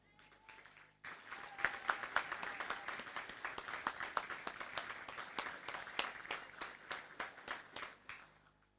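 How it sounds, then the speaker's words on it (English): Sustained audience applause for an award recipient at a recruit graduation ceremony, starting abruptly after a brief quiet moment and continuing as dense, steady clapping, slightly distant and fading toward the end. "Ladies and gentlemen, round of applause for Chris."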